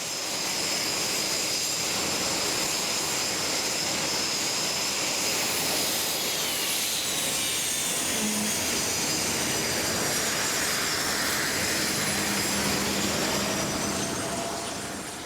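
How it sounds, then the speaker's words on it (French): A formation of eight Alpha Jet aircraft from the Patrouille de France flies over, producing a loud continuous jet roar with a high whine that stays strong and steady throughout. "C'est donc 8 avions dans le ciel, 8 Alpha Jet, bleu, blanc, rouge, qui dessinent avec les fumigènes dans le ciel le drapeau français"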